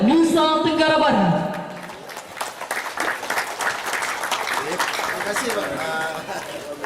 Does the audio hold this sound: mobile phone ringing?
no